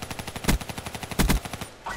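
Rapid, evenly spaced automatic gunfire in Call of Duty: Black Ops III, a loud close stream of shots with heavier bursts in the middle, stopping briefly before the end.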